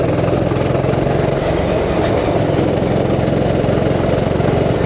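Go-karts with old lawnmower-type petrol engines racing on a damp track in light drizzle at Muret, giving a continuous loud, steady droning engine roar with no pauses and no voices.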